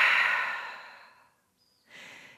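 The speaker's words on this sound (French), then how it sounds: "Et grande expiration par la bouche." One big exhale through the mouth during a yoga breathing exercise, a long breathy sigh that fades out, followed by silence and then a soft breath.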